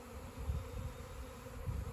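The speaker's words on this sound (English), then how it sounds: "they've all moved back and they're swarming around some bushes here right behind the other beehives" Honey bees swarming around bushes behind top bar beehives make a dense, continuous low hum that is faint and steady, with some bees buzzing nearer.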